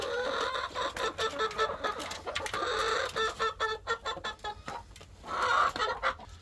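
A flock of chickens cluck and chatter steadily around a homemade bucket feeder built from a Lowe's bucket, several birds close by with overlapping calls and brief swells.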